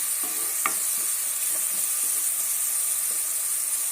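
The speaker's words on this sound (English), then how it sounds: "So allow this fry for 1 minute, then I'll add other ingredients." Coarsely blended pepper and tomatoes fry in a pot, a steady close sizzle and hiss throughout, with a few soft scraping stirs.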